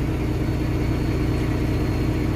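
A Kenworth truck engine runs on cruise control as a steady, loud, low droning hum that holds constant throughout, with no speech.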